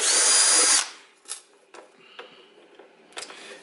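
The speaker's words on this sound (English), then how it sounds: "of course I haven't put my screwdriver back. Again, my trusty Hitachi." A Hitachi electric screwdriver whirs loudly and steadily for nearly a second while driving a screw into a Compact Tristar vacuum, then falls silent; a few faint clicks and handling knocks follow.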